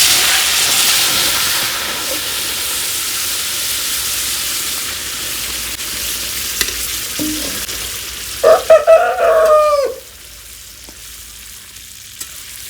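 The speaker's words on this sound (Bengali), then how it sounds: "চিকেনটা একটু ফ্রাই করে নেবো" Chicken frying in butter in a pan, a loud, steady sizzle and hiss that runs throughout. A brief burst of louder crackling and spatter comes near the end before the sizzle settles to a quieter level.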